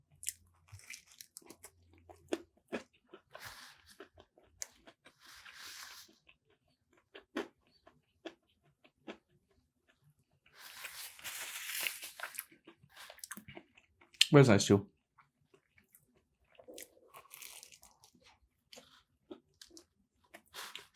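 Crisp crunching bites into a fried chicken sandwich, a few sharp loud crunches between quiet chewing and brief spoken remarks.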